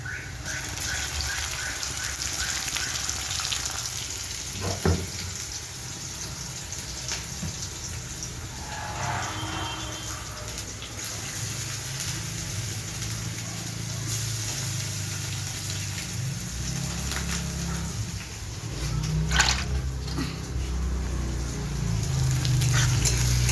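Onion paste frying in a pan, a steady broadband sizzle with a watery hiss running throughout, near and moderately loud, with a few brief clatters and a lower rumble building toward the end.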